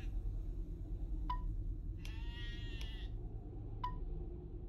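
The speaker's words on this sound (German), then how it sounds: "Was macht mein Schaf da?" A single drawn-out sheep bleat in the Lord of the Rings Online video game, rising midway over a steady bed of game ambience, with a few faint ticks around it.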